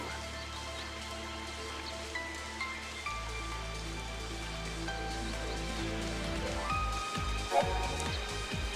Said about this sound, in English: Come out to play in the rain, did you?